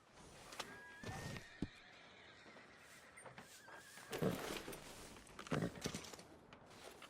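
A horse in Red Dead Redemption 2 whinnies with a long, high neigh, followed by a few snorts and short bursts of movement. No one speaks.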